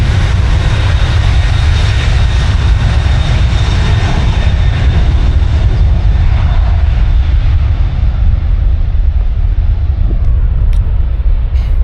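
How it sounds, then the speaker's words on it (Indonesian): A Lion Air airplane takes off, its engines producing a loud, sustained roar and deep rumble that stays close and steady, then slowly fades toward the end, with no talking. "ada pesawat mau take off. Lion Air."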